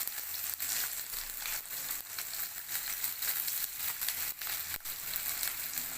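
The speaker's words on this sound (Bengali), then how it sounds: "ওই তেলে পেঁয়াজটাকে দিয়ে দেবো।" Onion pieces sizzle and crackle steadily in hot oil left over from frying potatoes, a dense close hiss with scattered pops throughout.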